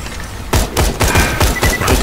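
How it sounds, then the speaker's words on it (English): Rocket launcher blasts in the video game Borderlands 2: a rapid series of heavy, booming explosions, roughly five or six punchy bursts in quick succession, loud and close. "Rocket launch is blowing up"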